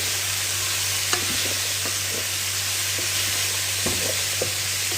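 Fava beans or peas fry in a pan with a steady, close sizzle. Occasional scraping knocks come from stirring, over a constant low hum.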